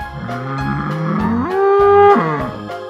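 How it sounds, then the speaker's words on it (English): A bull moos in a long, loud, low call that swells and rises in pitch near the middle before falling away, heard alone and close. "Bull."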